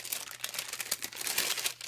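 A bag of craft supplies holding glassine envelopes, trim and seam binding is handled up close, a steady dense plastic crinkling and rustling throughout with no voice.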